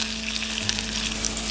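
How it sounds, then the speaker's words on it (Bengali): Potatoes fry in a pan of hot oil, giving a loud, continuous sizzle with fine crackles and a faint steady hum underneath. "এবার আলু দিয়ে আলু ভেজে নেব।"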